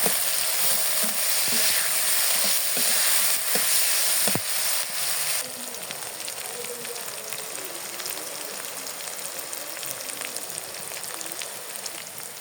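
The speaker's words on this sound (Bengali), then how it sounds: "পেঁয়াজটা আমাদের ভাজা হয়ে আসতেছে, এখন আমি দিয়ে দিব পেঁয়াজের পাতাগুলো।" Onions sizzling in hot oil in a pan as onion greens go in, a close, dense frying crackle that drops in level midway as ingredients are added and stirred.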